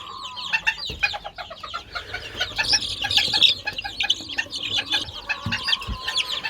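Young chicks in a coop chirp in a dense chorus of high, rapid peeps, with a few louder clucks mixed in and occasional handling knocks.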